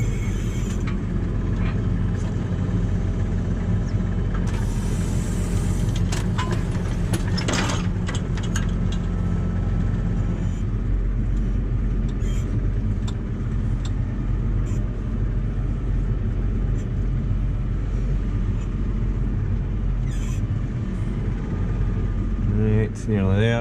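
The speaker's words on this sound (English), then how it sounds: "the tractor's leaning quite a bit, which is why I've kept that plough up there" A tractor working a field with its plough raised on one side while leaning on a slope, giving a loud, steady engine drone with clanking and rattling of machinery throughout.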